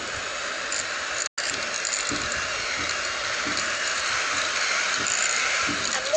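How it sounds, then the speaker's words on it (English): A whisk beats butter and soft brown sugar in a bowl, a steady scraping, clicking churn with small regular strokes running throughout, one brief break near the start. "I'm going to go in with my whisk and just cream it all up"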